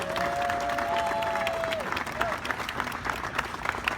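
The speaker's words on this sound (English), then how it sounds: "Let's give Lori a big, big round of applause" A crowd claps steadily for Lori Brook, the dairy cattle show coordinator, at the opening ceremonies of the 2016 World Dairy Expo. The clapping is dense and sustained, with a brief tone heard over it early on.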